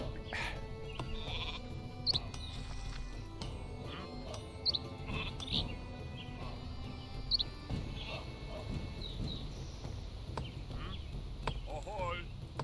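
Sheep bleating in the Viking strategy game Northgard, several short bleats spread across the stretch amid bird chirps, game sounds and soft background music.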